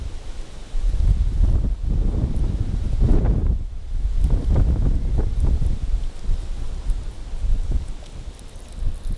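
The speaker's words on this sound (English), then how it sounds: "This wind is tough though" Strong wind buffets the microphone on the Devils River, a steady broad rush with heavier gusts surging and fading throughout, loud and close, with no talk.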